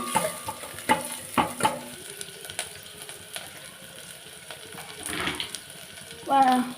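Onion fries in oil in a pan for idli sambar, a light crackling sizzle with intermittent stirring clinks and scrapes close by, with a brief louder burst near the end.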